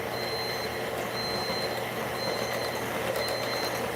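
A bread machine beeps a series of long electronic tones at a steady rhythm, signalling time to remove the kneading paddle, over a constant background hum.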